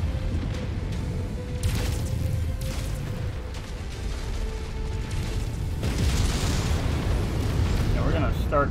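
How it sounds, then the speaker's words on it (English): Artillery bombardment rumbles through a MechWarrior 5 battle, a steady low booming bed with bursts of heavier blasts, brighter crackling impacts near the end, and in-game voices talking over the din. "There's still some artillery out there. Prepare for more bombardments."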